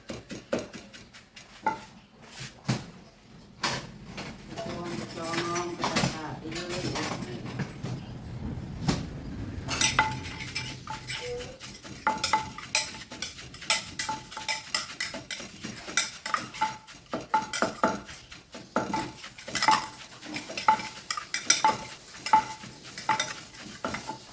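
A pestle pounds papaya salad with shrimp in a mortar, giving irregular wooden knocks and thuds, sometimes in quick runs, along with clinks of utensils and rustling at close range.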